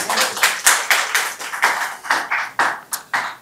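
Sparse hand clapping at a launch event in the UK: sharp, evenly spaced claps roughly every quarter second, close and fairly loud, with no cheering or talk over them.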